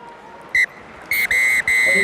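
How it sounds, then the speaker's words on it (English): A referee's whistle ends a rugby match between Clermont and Bordeaux Begles in the European Rugby Champions Cup, with one short blast followed by two longer ones, sharp and clear above a low crowd murmur. "So there is the final whistle."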